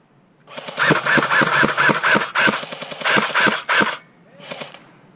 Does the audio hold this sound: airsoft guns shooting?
yes